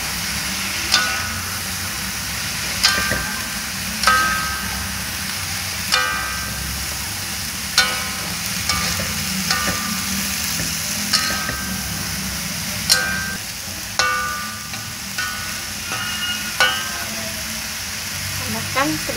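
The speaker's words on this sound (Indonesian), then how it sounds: "kemudian kita masukkan kacang panjang," Long beans stir-fried in a pan with petai and bay leaves, a continuous sizzle broken by regular sharp clinks and scrapes of a spatula stirring, close and moderately loud.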